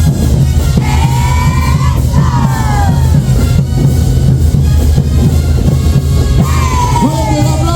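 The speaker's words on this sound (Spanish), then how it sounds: "Fuerte el aplauso de este público" Loud crowd at a caporales dance parade in Arica, Chile, with yelling, whoops and shouts over steady street noise and a voice calling out during the show.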